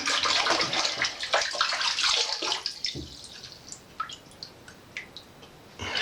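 Water rinses and gurgles through a washbasin drain and siphon being cleared of a clog, a steady rush at first that thins into scattered drips and trickles, close by with no talking.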